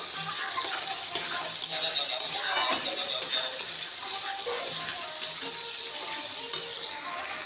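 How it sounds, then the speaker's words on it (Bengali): Chopped tomato and spices are sautéed in fish oil for a spicy cabbage dish. They give a steady, close sizzle with stirring and scraping throughout. "আর দেবো টমেটো কুচি আর ভেজে রাখা তেল দিয়ে ভালো করে কষে দেবো"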